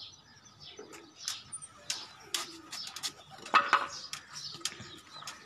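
Racing pigeons coo and chirp at a loft during a tournament season flight, soft repeated calls with scattered sharp chirps and occasional wing flutters, moderately close with a faint background hum.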